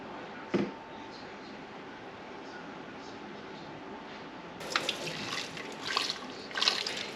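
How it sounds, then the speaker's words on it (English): Water poured and trickled into ice cube trays to top them off, a soft steady running sound with a brief knock near the start and louder splashing bursts toward the end. "I'm just going to pour these into each, top them off with water, and then we'll get these in the freezer"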